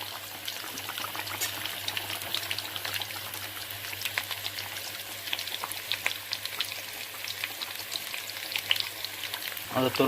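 Fried fish going into a boiling fish curry with slit green chillies, a dense close bubbling sizzle with crackling pops throughout, growing slightly louder toward the end.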